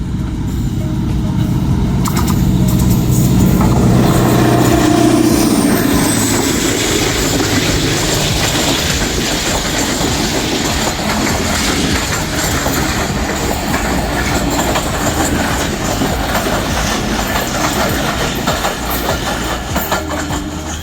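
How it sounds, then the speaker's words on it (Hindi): Tezgam 8 Down passenger train running through Missa Keswal railway station in Pakistan, loud and close, with a steady rumble and rhythmic clickety-clack of the wagons rolling past for the whole stretch, plus a brief wheel squeal. "मिर्ज़ा गसवाल रेलवे स्टेशन पर तेज़गाम 8 डाउन।"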